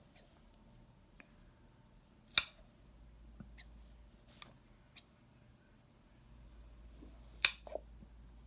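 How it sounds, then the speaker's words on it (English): Scissors snipping through leftover macrame cord on a coaster: two sharp, close cuts several seconds apart over a quiet room, with a few fainter clicks between them. "And you just want to cut the rest of the cord."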